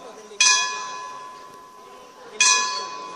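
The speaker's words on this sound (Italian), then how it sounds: "Però sentite il suono delle campane" Two struck church bell tolls in Matera, Italy, each a bright ringing onset with a long decaying hum, about two seconds apart, moderately loud with no talking.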